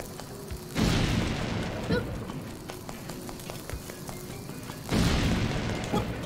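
Two loud, booming bomb blasts from The Legend of Zelda: Link's Awakening, one near the start and another about four seconds later, each with a rumbling tail, separated by quieter game sounds and faint clicks.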